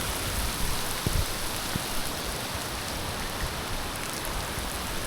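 Steady rain falls outdoors in Quezon Province, a dense, even hiss of drops on surfaces with a couple of brief low thumps early on, continuous throughout with no talking.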